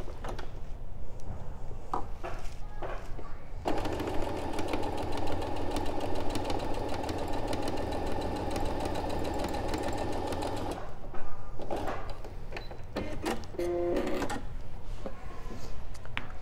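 A sewing machine stitches a seam on a mini quilt, a steady mechanical whirring run of about seven seconds between shorter bursts and clicks of fabric handling.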